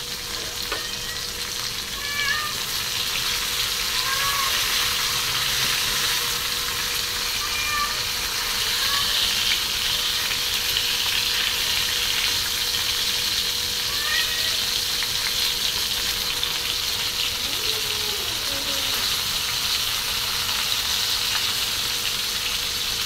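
Fresh surmai fish fries in a pan with a loud, continuous sizzle, while a pregnant cat meows several times in the background.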